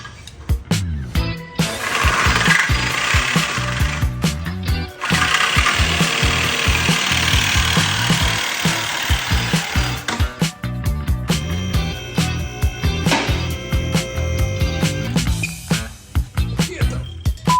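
A power tool saws through the mufflers on a straight-piped 454 big block exhaust, with grinding bursts that start and stop, loud and close, and short pauses between the cuts.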